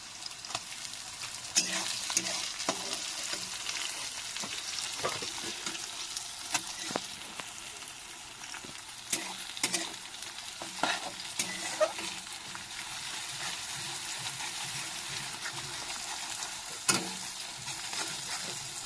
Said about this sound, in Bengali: এবার কিছু পাকা টমেটো কাটা ছিল দিয়ে দিচ্ছি